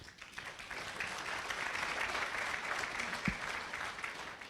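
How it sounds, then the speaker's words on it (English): A live-streamed gathering at the Islamic Center of America breaks into applause, a soft, distant wash of many hands clapping steadily, with one brief low thump near the end. "Round of applause, please."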